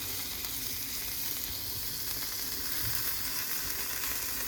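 Marinated chili starters fry in a pan over a very low flame, giving a continuous close, even sizzle with soft crackles and no talking.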